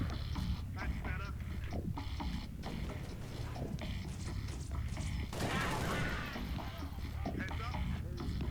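Dense, continuous gunfire in the video game Halo: Reach, with rapid bursts and mechanical clatter over steady battle noise and in-game voices.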